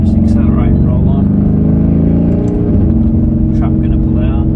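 A Mercedes GLC63s AMG pulling away in race mode, its deep engine rumble rising in a sustained, close, loud pull, with brief thin high-pitched noises flickering over it.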